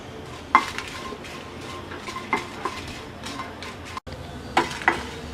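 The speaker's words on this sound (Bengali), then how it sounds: "প্রথমে শুকনো মরিচটা হালকা ভেজে নিচ্ছি" Five to seven dried red chillies frying lightly in a pan on the stove, a soft steady sizzle under repeated clinks and scrapes of a spoon stirring against the metal.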